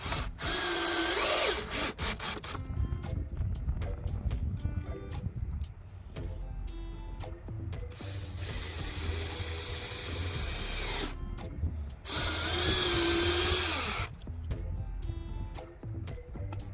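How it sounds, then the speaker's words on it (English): A power drill drives screws through small corner brackets into the side of a wooden farmhouse table, with several whirring bursts of varying length separated by brief pauses and light scraping and handling sounds. "just screw these little corner brackets into the side"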